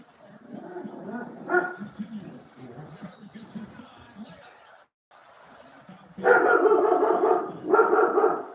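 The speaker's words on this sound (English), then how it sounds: "Sorry, that's my dog barking." A dog barks indoors, with a few sharp barks mixed in with a person talking, then louder bursts near the end, close to the microphone.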